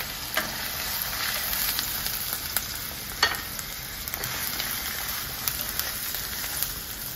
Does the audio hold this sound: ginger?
yes